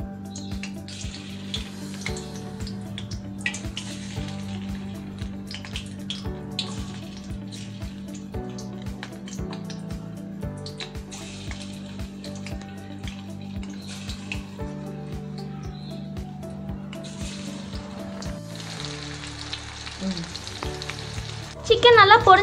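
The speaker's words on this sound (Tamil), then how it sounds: "இப்போ சிக்கன் நல்லா செட் ஆகியாச்சு. இப்போ நம்ம அதை ஒன்று ஒன்றா போட்டு பொரிச்சு எடுக்கலாம்." Chicken pieces deep-fry in oil in a kadai, a continuous bubbling sizzle that runs evenly throughout at moderate loudness, with faint clinks, and a louder burst of activity at the very end.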